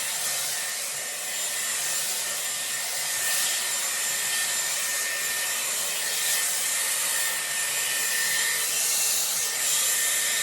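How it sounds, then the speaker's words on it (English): A Dyson Airwrap round brush blows a steady, loud airflow roar while drying hair at the crown, a continuous whoosh with faint brushing rubs throughout and no talking. "I'm going to brush over my crown, so that just makes sure it's dry"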